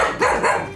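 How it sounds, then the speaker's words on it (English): A pet dog barks indoors, close and loud, giving a quick pair of sharp barks with no voices over them. "Sorry about the dog barking, guys."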